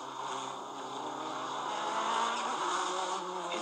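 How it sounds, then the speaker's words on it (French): Onboard a Porsche race car at the 1995 Le Mans 24 Hours, the engine roars steadily and loudly at constant speed with dense harmonic drone and wind rush throughout the short stretch. "Et nous sommes à bord de la Porsche de Jean-Pierre Jarier."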